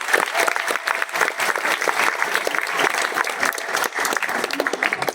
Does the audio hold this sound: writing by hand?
no